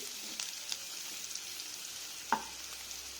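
Onions frying in a pan, giving a steady soft sizzle with faint crackles and one sharper pop near the end, heard close and alone without talk.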